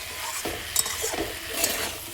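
Cauliflower and potatoes being sautéed in a pan, with a soft continuous sizzle and a few light scrapes of a spoon stirring through the vegetables.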